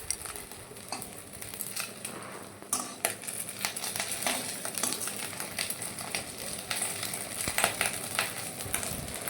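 Jute leaf fritters (bora) frying in a pan give a steady, close sizzle, with scraping and clinking from a utensil stirring and turning them throughout.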